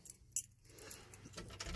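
Two brand-new ignition keys for a 1967 Chevy C10 pickup jangle together in a few short metallic clinks, near and fairly quiet, with faint shuffling between them.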